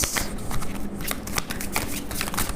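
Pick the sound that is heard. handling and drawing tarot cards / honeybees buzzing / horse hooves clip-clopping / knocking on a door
handling and drawing tarot cards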